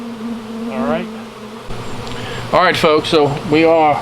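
Honey bees buzz around a nucleus hive while they orient to it, a steady insect drone running beneath a man's close, clear talking.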